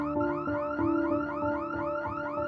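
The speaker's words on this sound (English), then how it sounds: "Arnold turned off the car alarm and went to bed" A car alarm going off at night, cycling through a repeating rising electronic whoop in a steady rhythm, moderately loud and continuous with no other sounds.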